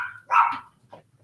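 A single dog bark, fairly close and loud, followed by a fainter short yip, with no talking.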